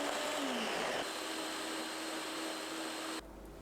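A blender running at high speed grinding pear, onion, garlic, ginger, cooked rice, salted shrimp and water, a steady whirring grind, loud and continuous, cutting off abruptly near the end.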